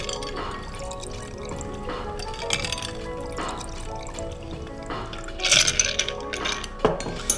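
Cocktail strained over packed ice into a stemmed glass, a close trickle and pour of liquid with ice clinking and glassware knocks, louder splashing near the end, no speech.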